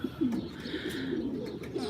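Pigeons coo repeatedly in a low, rolling rhythm, close and steady, their soft calls overlapping across the whole stretch.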